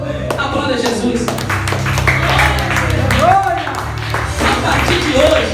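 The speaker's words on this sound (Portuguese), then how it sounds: "Aplauda Jesus." Church congregation clapping for Jesus during a Portuguese-language service, scattered claps running under a voice and steady musical tones throughout.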